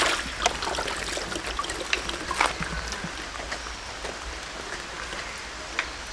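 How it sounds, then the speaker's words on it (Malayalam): Light rain drizzles outdoors beside a guppy fish tank, making a soft, steady patter and hiss with occasional louder drops close by. "ഇപ്പം മഴ ചെറുതായിട്ടൊക്കെ ചാറുന്നുണ്ട്"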